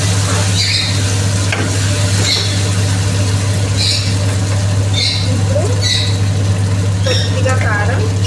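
Potato curry sizzles steadily in an oily pan while a spoon stirs it now and then with soft scraping, under a constant low hum.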